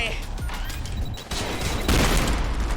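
Rapid gunshots and impacts in a John Wick action video game, loud and chaotic, with a heavy burst near the end, over a talking player's voice.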